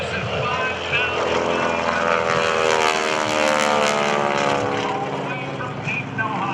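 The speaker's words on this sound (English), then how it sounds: "Mr. Bill Leff comes by in the North American Texan from Dayton, Ohio." A North American Texan single-engine propeller airplane performing an airshow roll passes with a loud, steady droning engine roar that swells and holds throughout, with crowd or announcer talk faintly beneath.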